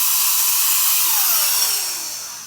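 A cheap $40 electric paint sprayer blowing air, a steady broadband whoosh heard close and alone that holds level, then eases slightly toward the end.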